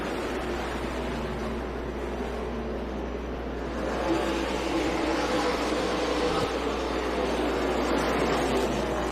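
Stock cars in a NASCAR K&N Pro Series West race at Tucson Speedway roar past in a steady, loud engine drone that swells louder midway as the pack comes through, with no talk.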